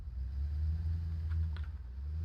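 A battered, half-damaged tractor in the game Satisfactory drives along with a steady, low engine rumble and drone throughout, fairly close, with no talking.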